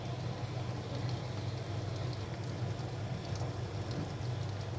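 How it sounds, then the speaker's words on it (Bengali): About 1.5 kg of peeled native garlic cloves go into hot mustard oil for a mango and garlic pickle and sizzle with a steady, dense hiss that stays even and loud throughout. "সরিষার তেলটা যখন একটু গরম হয়েছে তখন আমি দিয়ে দিচ্ছি ছিলে রাখা দেশি রসুনের কোয়া।"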